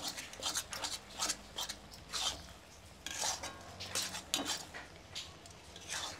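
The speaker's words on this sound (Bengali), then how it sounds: "ধীরে আঁচ দেব, আর এটা নাড়িয়ে নাড়িয়ে ভাজবো।" Onion masala chutney made with chukor leaves, stirred slowly in a pan over low heat, heard as repeated soft scraping strokes of a utensil on the pan in an uneven rhythm, close and fairly quiet, with no voices.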